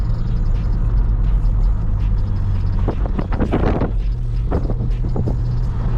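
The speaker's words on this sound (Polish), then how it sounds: "Jedziemy sobie na czwóreczce, delikatnie, półtora tysiąca obrotów a to od dołu normalnie się zbiera, jak dieselek." A BMW E39 with the M50B30 engine and manual gearbox cruises gently in fourth gear at about 1500 rpm, a steady low drone and road rumble with wind noise throughout and some brief louder bursts midway.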